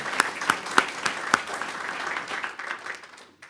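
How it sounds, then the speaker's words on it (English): An audience at a comics forum keynote at MSU gives a short round of applause, a few sharp, distinct claps standing out before the clapping thins and fades to silence. "please give him a round of applause anyway"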